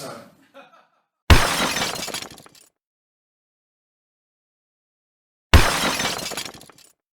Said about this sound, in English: there's quite a lot of crashing goes on in Slot Stox